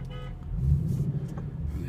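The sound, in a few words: car horn honking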